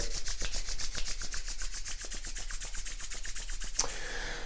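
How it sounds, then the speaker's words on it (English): Bare palms rubbed briskly together during a seated meditation, making a close, even run of about twenty quick swishing strokes with no talking. "So let's rub our hands together."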